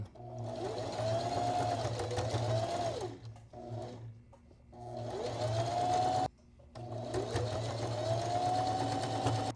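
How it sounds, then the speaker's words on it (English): A sewing machine stitches around the edges of a jacket sample in three steady bursts, with brief pauses in between. The motor whirs clearly and close to the listener. "maybe I should just sew around the edges."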